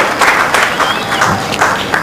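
Aussie teammates at a 2010 Commonwealth Games men's singles bowls match give a round of applause, a soft, continuous wash of clapping heard from a distance outdoors.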